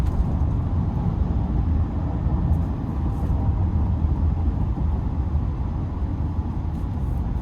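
Tires of a 2025 GMC Sierra 2500 HD SLT X31 off-road pickup rolling on the road, heard from inside the cabin as a steady, moderate low roar that stays fairly subdued, with no talking.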